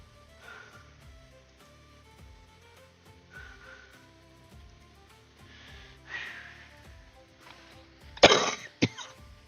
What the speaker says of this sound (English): Still hurts when I cough.